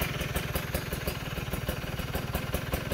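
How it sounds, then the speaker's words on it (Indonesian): A motorcycle engine fitted with a PWK 30 carburetor reamed to 32 idles at about 1000 RPM, a steady close, even mechanical pulsing with a slight clatter and no voices. "Ini RPM di 1000 ya, RPM bawahnya."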